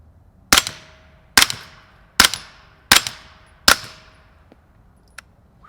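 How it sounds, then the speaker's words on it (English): Five suppressed shots of 158 grain Fiocchi ammunition from a BAM pistol caliber carbine, sharp cracks at even intervals under a second apart, each with a short ringing tail, then a faint click. "Now we got the 158 grain Fiocchi with the BAM PCC."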